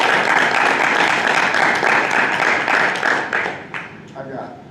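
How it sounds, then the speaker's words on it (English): A steady round of applause fills a school board of education meeting room, many hands clapping at a fairly even level before thinning out into a few scattered claps and murmurs. "I would like to just give us a round of applause"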